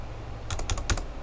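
A computer keyboard is typed on in a short burst of about five clicky keystrokes, soft and close, with no talking, during a Photoshop CS6 tutorial.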